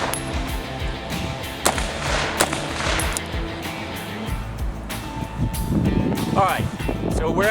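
AR-15 rifle fired at targets in combat shooting practice, sharp shots cracking out singly and in quick pairs amid outdoor noise, with someone talking between them.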